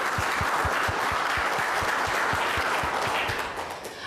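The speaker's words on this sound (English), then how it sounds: "so give him a round of applause too." An audience at a community safety meeting applauds, a dense continuous patter of many hands with some sharp individual claps near the mic, fading slightly toward the end.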